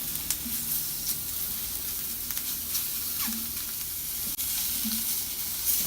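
Shrimp blackening in a smoking-hot pan give a steady, loud sizzle and crackle throughout, with a few brief stirring scrapes and no talk.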